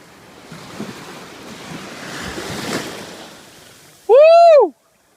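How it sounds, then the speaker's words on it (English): Atlantic Ocean surf washing onto a beach in Spain, a rolling wash of waves swelling and fading under wind buffeting the microphone, followed near the end by a loud, brief, high-pitched human shriek. "now I'm about to walk into the Atlantic Ocean for the first time"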